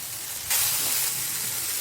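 Tomatoes and onions frying for butter chicken, a steady hiss and sizzle that jumps louder partway through and holds, close to the pan with no talk.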